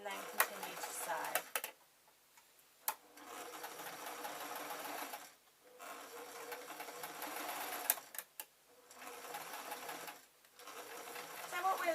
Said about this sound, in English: I'm just going to tuck it under the foot and then continue to sew.